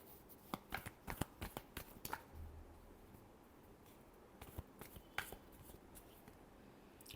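Tarot cards get shuffled close up in a quiet room: a run of quick riffling flicks and snaps in bursts, a pause with soft rustling, then a few more sharp card slaps.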